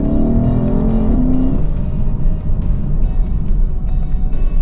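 A Lexus IS500 V8 revs hard with a rising snarl, then settles into a loud, deep, steady rumble close by.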